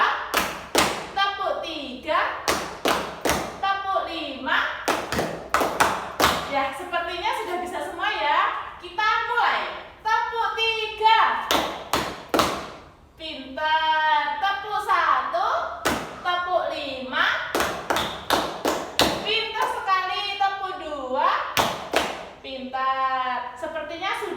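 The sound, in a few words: hand clapping counted in a classroom clap test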